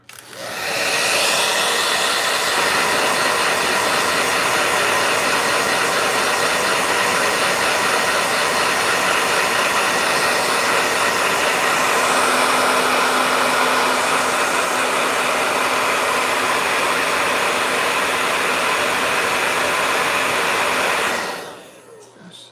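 A blow dryer runs steadily and loudly with a constant whooshing roar, then cuts off near the end.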